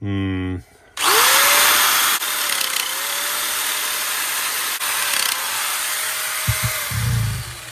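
A Parkside metal nibbler cuts steel sheet with a loud, continuous buzzing chatter close by, briefly interrupted, with the motor's pitch rising and settling across repeated passes.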